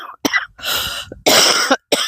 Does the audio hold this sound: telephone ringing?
no